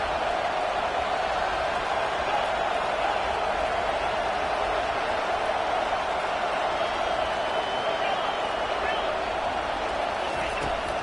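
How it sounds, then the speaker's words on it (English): Loud stadium crowd at a football game roaring steadily during a third-down red zone defensive stand, a dense continuous wall of cheering and noise with an announcer's voice over it. "And here comes the noise. This crowd is trying to inspire this defense to make a big red zone stop."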